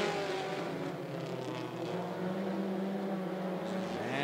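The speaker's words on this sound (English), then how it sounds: "Green flag is in the air. Second heat for the mini stockers." Mini stock race cars in a heat at 411 Motor Speedway roar at a distance. The engines drone steadily with a rising and falling pitch as they pass, and a faint crowd or announcer murmur sits underneath.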